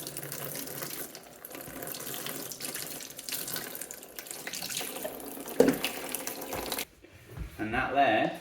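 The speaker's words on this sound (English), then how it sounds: "Give it a little run under the sink." An Aeropress being rinsed under a running sink tap while camping, a steady rush of water splashing for several seconds before cutting off, followed by brief handling clatter.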